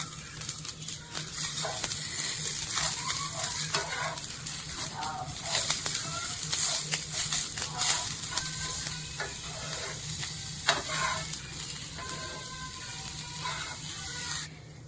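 Coriander and grated coconut roast in a pan and are stirred while cooking mushroom xacuti, making a steady close sizzle with scratchy scraping strokes and occasional clinks, and a voice talks over it at times.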